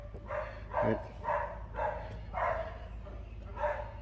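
A dog barks repeatedly in a steady rhythm of about six loud barks, close by, outdoors near a Honda Fourtrax ATV being checked for locked-up front brakes.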